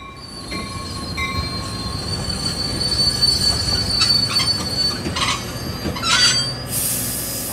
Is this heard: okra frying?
no